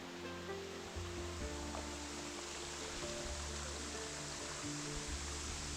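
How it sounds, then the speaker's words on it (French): A winter waterfall in Burgundy pours as misty curtains of heavy droplets, making a continuous broad rushing roar with a low rumble underneath, steady and close throughout. "La cascade tombe sous forme de rideaux brumeux, mais ce sont quand même des grosses gouttes qui tombent."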